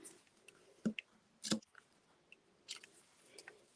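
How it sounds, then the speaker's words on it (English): Quiet, crisp snipping clicks from scissors cutting paper for card stamping, a few separate cuts spaced irregularly, close by in an otherwise quiet room. "I'm just going to come in with my scissors."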